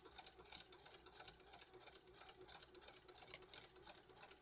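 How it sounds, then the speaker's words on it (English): A sewing machine hums and stitches in a fast, steady rhythmic patter, faint and continuous, with no voices. "now I'm going to go with my sewing machine"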